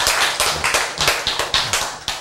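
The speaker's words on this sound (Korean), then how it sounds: "박수를 치시네." An audience in a lecture hall claps in short rhythmic bursts, about ten sharp beats in steady succession, close and fairly loud.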